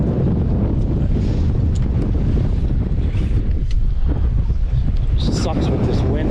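Strong wind buffets the microphone aboard a fishing boat on open water during a musky fishing trip, a loud continuous rumble with gusty surges and faint water lapping throughout.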